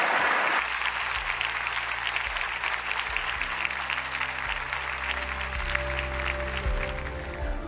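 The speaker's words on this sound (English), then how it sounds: "please give our Aston Martin drivers a round of applause" Sustained crowd applause at the Aston Martin AMR26 Formula One car launch, greeting drivers Lance Stroll and Fernando Alonso. Dense, loud clapping fills the room throughout, over a steady low hum.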